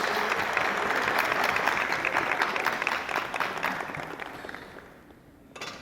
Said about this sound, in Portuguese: Muito obrigado, recebe o carinho e os aplausos de todos.